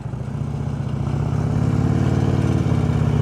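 A motorcycle engine idles and revs steadily up close, its low, even drone holding throughout without talk during slow U-turn practice around cones.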